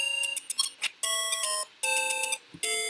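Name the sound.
Alarm of the Zelda II-themed interactive timer on Game & Watch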